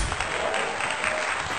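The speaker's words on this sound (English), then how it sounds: "Give yourselves a nice round of applause." A crowd outdoors at a high school football game gives a continuous round of applause, a dense, steady wash of clapping with no pauses.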